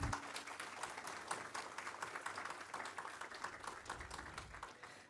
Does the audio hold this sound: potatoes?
no